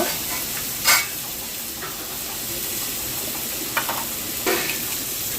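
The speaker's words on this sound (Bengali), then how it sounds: "চিংড়ি মাছটা ভাজা ভাজা হয়ে যাচ্ছে টমেটোর সঙ্গে" Prawns frying with tomato in a pan give a steady, close sizzle, broken by a few sharp hissing bursts as the mixture is stirred.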